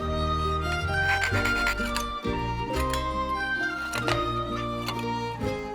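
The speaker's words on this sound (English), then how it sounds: "Then I cut around the crossguard template after that." Rough, rhythmic rasping of oak being cut around a template, with harsh strokes and knocks close by, continuing steadily without voices.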